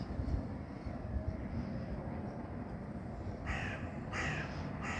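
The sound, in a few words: birds cawing, crows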